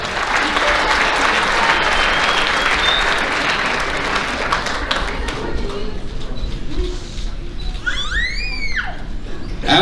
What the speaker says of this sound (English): Let's give our JV softball players one more round of applause